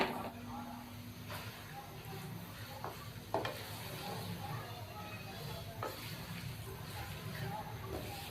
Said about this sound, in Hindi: इसको 4 से 5 मिनट तक ऑयल में इसकी भुनाई कर लेते हैं